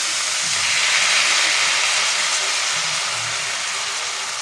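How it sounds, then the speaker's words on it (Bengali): A little water splashed into a hot pan of poppy seed paste and kundri sends up a loud, continuous hiss of steam that holds steady and fades only slightly. "লেগে না যায় সেই জন্য আমি সামান্য একটু জল দিয়ে দিলাম।"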